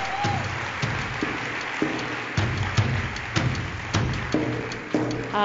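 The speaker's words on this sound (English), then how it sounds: "Let's give her a nice round of applause" Applause from an audience at a media awards ceremony, a continuous wash of many hands clapping at moderate volume, steady throughout.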